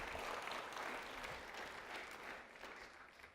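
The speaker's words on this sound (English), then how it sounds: "one more big round of applause for James." A seminar audience gives a big round of applause for a participant, a dense, steady wash of many hands clapping throughout, fairly quiet and without talk.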